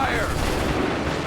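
Musket volley in Assassin's Creed 3: a brief, loud, dense burst of massed gunfire rolling into a rumbling echo, with no separate shots distinguishable.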